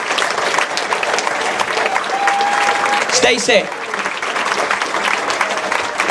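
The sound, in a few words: applause at an academy awards night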